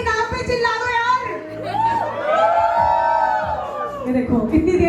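A lively crowd at a wedding event in Lucknow shouts, whoops and cheers together with rising and falling voices, loud and close, children's voices mixed in, continuing for several seconds.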